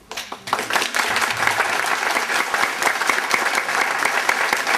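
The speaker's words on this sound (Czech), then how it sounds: "Myslím, že ten potlesk..." An audience at a marriage seminar breaks into sustained applause, a dense, lively burst of clapping that starts abruptly and keeps going at steady strength.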